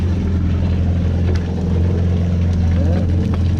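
A 2022 Yamaha GP1800R jet ski engine runs at a steady idle out of the water after a 10-hour service, giving a loud continuous low rumble with faint clicks and background noise.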